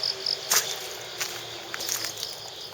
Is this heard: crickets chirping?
yes